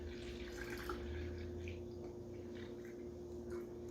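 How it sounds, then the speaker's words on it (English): A kitchen sink faucet runs water into a bottle, a faint, steady trickle and splash under a low constant hum for a few seconds. "The easiest way to do this again is in a kitchen sink with a faucet."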